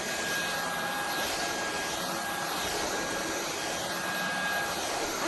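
A Shark Pet cordless stick vacuum runs on its low setting, a steady, even whirring hiss that holds without change throughout, moderately loud and close, with no talking over it.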